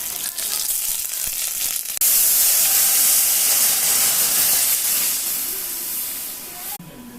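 Cumin seeds tempered in hot oil for a Bengali vegetable dal give a loud, steady hissing sizzle that bursts in suddenly and holds for several seconds before cutting off.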